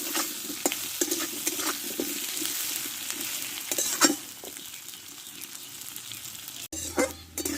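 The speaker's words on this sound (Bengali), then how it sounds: "আলুটা একটু ভালো করে কষে নেব" Potatoes stir-fried in a kadai, a close continuous sizzle broken by frequent scraping and knocking strokes of a spatula, with a brief dull thud near the end.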